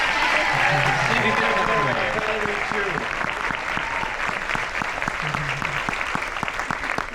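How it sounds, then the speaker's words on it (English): An audience at a cast panel breaks into sustained applause, dense clapping that fills the room and slowly thins, with a voice speaking over it. "While we're applauding others that aren't on stage"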